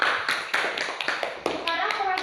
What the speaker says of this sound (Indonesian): Ya, tepuk tangan buat kelompok A.